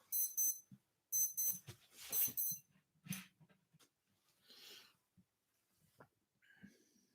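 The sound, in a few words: wristwatch alarm beeping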